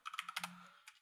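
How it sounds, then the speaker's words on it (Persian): Quick, close bursts of computer keyboard typing, a cluster of rapid keystrokes followed by a short pause and one more small tap near the end, with no voices. "کیبوردم فارسی من انگلیسی تایپ میکنم"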